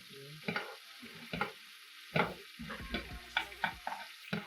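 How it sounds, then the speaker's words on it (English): Steak frying in a pan and basted with butter, sage, thyme, rosemary and garlic, heard as short bursts of sizzle and spoon scraping separated by brief quieter gaps. "tilt your pan and generously baste your steak in that butter"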